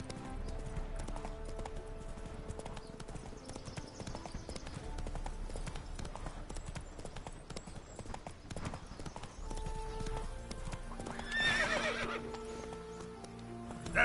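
Roach the horse gallops in The Witcher 3, hooves clip-clopping in a steady rapid rhythm over game music, with a brief whinny near the end.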